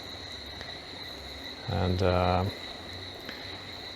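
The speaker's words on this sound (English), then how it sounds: "the jungle has come alive with lots of noises, frogs and crickets" Crickets chirp in a steady, high, continuous drone through the Amazon jungle at sundown, with a single short spoken word briefly cutting in partway through.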